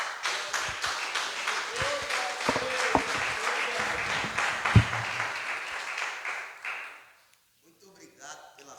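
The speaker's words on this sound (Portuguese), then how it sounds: "Muito obrigado pelas palmas" A church congregation applauds, a dense wash of clapping that runs steadily for about seven seconds with a few sharper claps, then stops abruptly into near silence.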